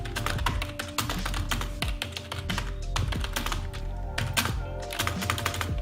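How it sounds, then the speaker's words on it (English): Fingers type steadily on a Circle Gaming RGB computer keyboard, producing a dense, close run of crisp key clicks and thunks for several seconds with no voices. "so this is the switching system of the keyboard"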